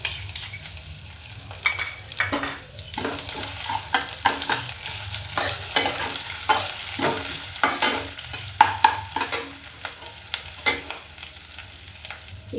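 Ginger and garlic sauté over low heat in a pan, giving a steady soft sizzle broken by repeated stirring scrapes and light metallic clinks of a spoon against the vessel, with no talking.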